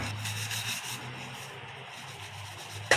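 A dirty cutting board is scrubbed with repeated close rasping strokes in a steady back-and-forth rhythm, ending in a sharp knock.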